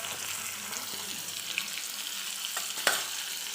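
Salt and turmeric stirred into a pan of long-cut raw mango cooked in a little oil: a soft, steady sizzle with light scraping, and a sharp utensil knock near the end.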